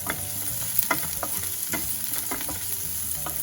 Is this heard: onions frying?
yes